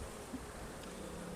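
Honeybees at a hive at the end of winter give a steady, close, dense buzzing that holds evenly through a brief moment with no talk.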